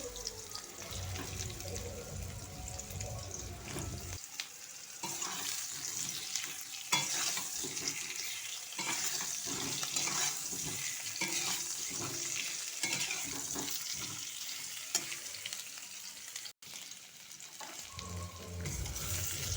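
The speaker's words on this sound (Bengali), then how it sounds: "এখানে আলুগুলো সমস্ত আলু দিয়ে দিয়ে খুব ভালো করে আমরা এটাকে ভেজে নেব" Potatoes fry in oil in a kadai with a steady, close sizzle, broken by scraping stirs throughout and no talking.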